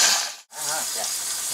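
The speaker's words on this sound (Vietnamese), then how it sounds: "Dầu sôi rồi mình bỏ thịt vô mình chiên." Pork belly sizzles and crackles in hot frying oil in a home kitchen, a loud, dense hiss broken by a short drop-out before the frying resumes steadily.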